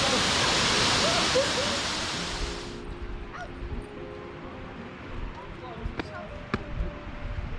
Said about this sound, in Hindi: इतना ऊपर से तो पानी इसी कुंड में जाकर गिरता है